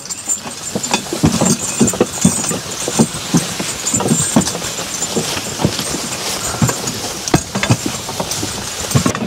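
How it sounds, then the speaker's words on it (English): Irregular patter of raindrops striking nearby surfaces, with sharp close taps scattered over a steady hiss. "it's definitely starting to rain"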